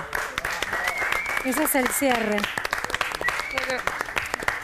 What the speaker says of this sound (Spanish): Un aplauso espontáneo acá en el piso